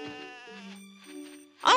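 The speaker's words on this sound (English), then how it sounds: "Wow, look at that sheep!" A sheep bleats in the video game Dogz: a short, wavering, nasal cry with a buzzy tone, clear and alone, ending in a brief louder burst.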